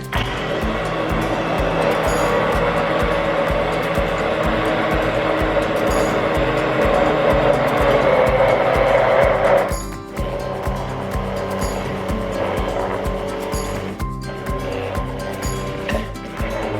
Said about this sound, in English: I'm going to put my immersion blender right over the top of the egg yolk